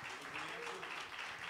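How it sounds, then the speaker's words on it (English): An audience claps and cheers at a lecture-series event, a dense steady wash of applause throughout with voices mixed in. "Let's give her a round of applause."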